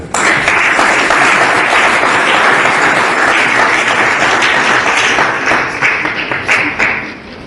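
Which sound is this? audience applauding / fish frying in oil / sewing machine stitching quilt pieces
audience applauding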